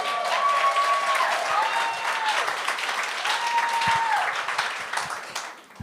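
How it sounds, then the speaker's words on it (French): Sustained audience applause at a televised talent show, loud and steady throughout with some cheering tones on top, tapering slightly at the end. "applaudissez jusqu'à temps qu'elle commence, s'il vous plaît"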